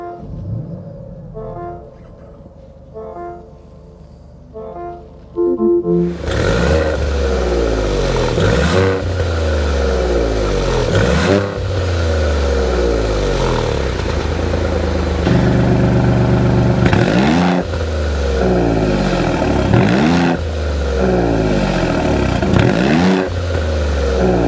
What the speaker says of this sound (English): start up this Nettuno V6 engine so you can hear that exhaust